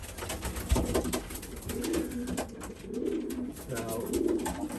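Racing pigeons cooing in a breeding loft with straw on the floor: repeated low rolling coos in overlapping waves, steady and moderately close, over a rustling background and no talking.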